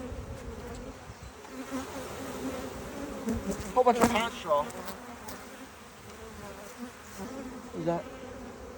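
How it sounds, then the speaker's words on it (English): A swarm of honey bees drones steadily nearby during a transfer from a nuc box to a ten-frame hive, the buzzing continuous beneath a man's short spoken remarks. "So I probably could just dump these bees on the ground."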